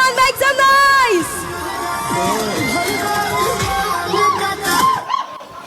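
An audience at a song-launch press event cheers, whoops and shouts in loud, close bursts, with a lively hubbub and raised voices running throughout.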